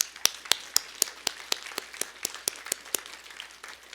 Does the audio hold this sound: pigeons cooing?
no